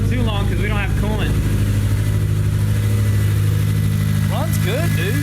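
A freshly rebuilt Honda S2000 engine running without coolant, a steady loud idle hum close by, with people talking over it at the start and end.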